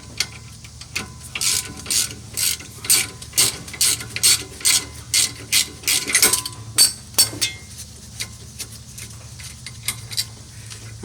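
Ratchet turning caliper bolts on the rear brakes of a 2017 Ford Transit T350HD, a rapid run of close, loud clicking bursts in an uneven rhythm, tapering to softer clicks toward the end.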